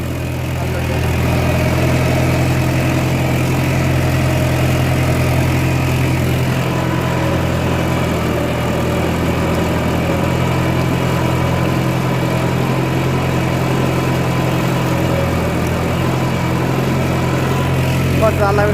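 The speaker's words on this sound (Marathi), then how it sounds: "हा ट्रॅक्टर 42 इंचचा फक्त." A 42-inch farm tractor engine runs continuously at a steady idle, a loud, close, even drone with a constant low hum that holds for nearly twenty seconds without a break.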